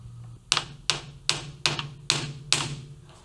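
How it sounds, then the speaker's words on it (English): A hammer taps a metal lathe in a workshop while a valve keeper is being machined, six sharp metallic knocks at an even pace, close and clear over a faint background hum. "Hitting my lathe with a hammer."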